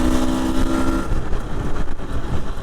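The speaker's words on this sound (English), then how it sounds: "So today I am continuing to run in my engine." The engine of a 2020 Husqvarna TE300i enduro motorcycle runs steadily during running-in, a loud, close drone that stays even throughout.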